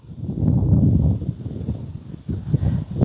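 Wind blows across an open paddy field, buffeting close to the microphone in low, rumbling gusts that swell, ease off midway, then surge again, with no talking.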